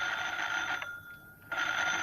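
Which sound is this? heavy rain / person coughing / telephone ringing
telephone ringing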